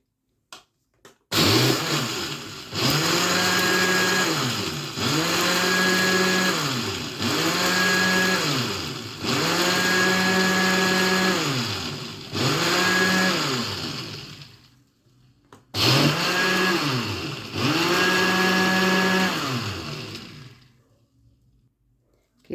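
A kitchen blender whirs through milk, cream and sugar for an orange cake batter in about seven repeated pulses, each revving up and winding down, fairly close with short pauses between.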